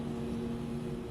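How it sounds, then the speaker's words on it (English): An MD-11 airliner's jet engines wind down toward idle during the final landing approach, a steady droning hum with a tonal whine over low rumble, continuous and moderately loud. "Just when they need power, the engines go to idle."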